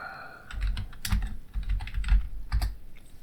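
Rapid clicking of keys on a computer keyboard, irregular bursts of close, crisp taps with brief pauses between them.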